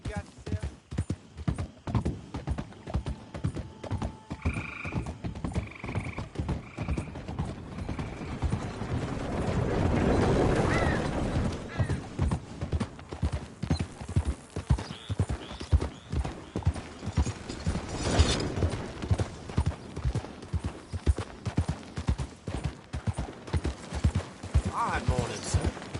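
Horse hooves clip-clop in a steady rhythm throughout Red Dead Redemption 2 gameplay, close and clear, with a brief whinny, a rush of wind or engine-like noise midway, and occasional spoken lines over the hoofbeats.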